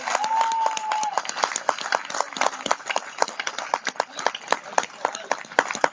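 Scattered, thin applause from a college audience at a poetry recital, with uneven sharp claps coming and going and a brief tonal sound near the start.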